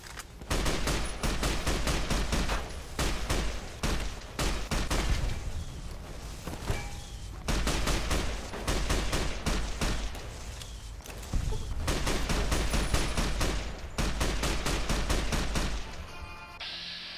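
Rapid gunfire rattles through a Fallout: New Vegas Lonesome Road fight, with dense repeated shots in long bursts, broken by short gaps.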